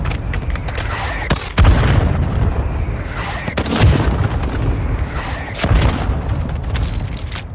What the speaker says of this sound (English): Hostile mortar strike incoming.